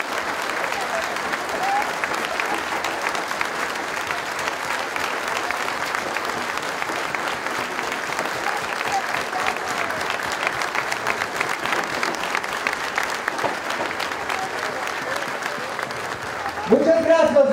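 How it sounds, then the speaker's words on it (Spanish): Sustained crowd applause at a campaign rally in Xochimilco, Mexico City, given as a minute-long tribute to writer Carlos Fuentes; dense, steady clapping from a large audience that continues throughout, with a voice starting to speak at the very end. "un minuto de aplausos para él, porque así se debe recordar un escritor de su tamaño."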